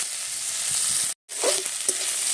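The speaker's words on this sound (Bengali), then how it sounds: "পেঁয়াজটাকে দিয়ে সব একটু নেড়ে চেড়ে নিচ্ছি।" Chopped onion frying in a wok and being stirred, a loud continuous sizzle broken by a brief gap, followed by a few scraping stirs.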